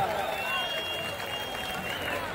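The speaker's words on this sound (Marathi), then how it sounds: "टाळ्या करा टाळ्या" A crowd at an outdoor village wrestling match claps and cheers in a steady wash of noise, with a voice over a loudspeaker talking above it.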